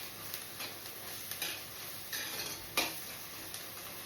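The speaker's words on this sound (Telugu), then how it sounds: "ఇలా ఆనియన్స్ ఫ్రై అవుతుండగా కొంచెం పసుపు, కొంచెం సాల్ట్ వేయాలండి" Onions frying in a pan with turmeric and salt, a steady soft sizzle with occasional scraping stir strokes and light clicks of the spoon, close and fairly quiet, without speech.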